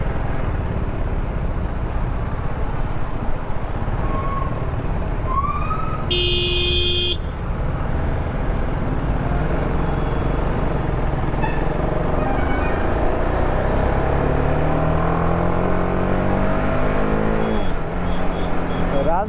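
An Apache RR310 motorcycle rides through highway traffic with a constant engine and wind roar, passing vehicles and a brief horn toot partway through, continuous and close throughout.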